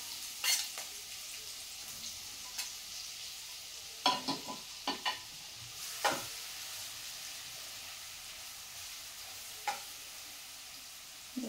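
Ground masala paste fried in hot oil for a radish-leaf bhaji, a steady quiet sizzle broken by a handful of sharp spoon scrapes and clinks, close and with no talk.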